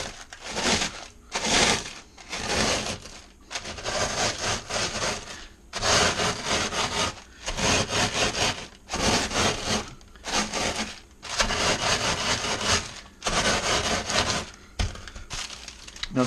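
A wine bottle rolls back and forth over bread crumbs for meatballs, giving close, loud grinding strokes in a steady rhythm with short pauses between passes and no talking.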